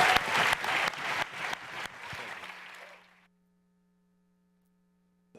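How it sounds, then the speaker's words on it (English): Applause for the judges and seven finalists at a pitch competition final fills the first three seconds, loud and dense, then cuts to near silence with a low steady mains hum. "Let's give a big round of applause to our judges and our 7 finalists."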